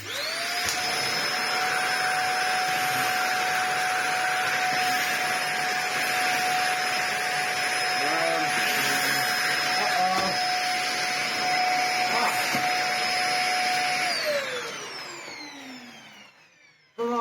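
A Dyson DC25 upright vacuum cleaner runs at full suction, a loud steady whine with a high motor tone that holds for about fourteen seconds, then winds down as the motor cuts off.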